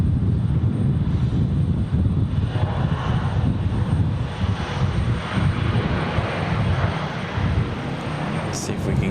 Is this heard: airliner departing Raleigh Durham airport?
yes